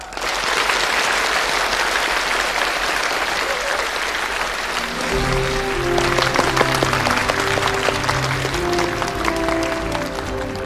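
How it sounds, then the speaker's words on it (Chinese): An audience at a school assembly claps to welcome outstanding student representatives, sustained and loud, with music rising beneath the applause partway through. "下面让我们用热烈的掌声欢迎优秀的同学代表上台。"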